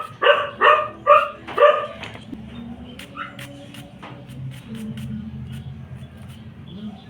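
A dog barks loudly four times in quick succession, then quieter background rustling and faint clicks follow.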